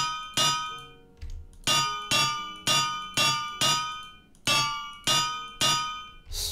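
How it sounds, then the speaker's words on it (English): Hammer striking metal on an anvil in a wizarding crafting video game: nine loud, ringing metallic clangs at a steady rhythm, each decaying briefly before the next, with no talk. "And then I think we need the hammer."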